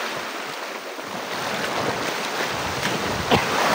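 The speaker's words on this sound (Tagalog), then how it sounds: "Malakas ng alon." Strong ocean waves surge and wash near a fishing boat out at sea, where nets are about to be hauled. A continuous close roar of surf and water blends with wind buffeting the microphone.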